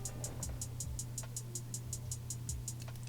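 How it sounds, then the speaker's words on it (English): A two-step hi-hat pattern in a trap beat: crisp, evenly spaced ticks repeat steadily over a low humming bed, with occasional deep kick sweeps underneath. No voices. "The most goated hi-hat pattern, 2-step."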